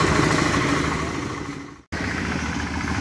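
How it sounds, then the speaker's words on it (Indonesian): A small baby roller compactor drones as it packs down reject asphalt for a restaurant yard, a steady mid-pitched engine chug that cuts out briefly for a moment before resuming at the same level. "Mulai dipadatkan dengan mesin baby"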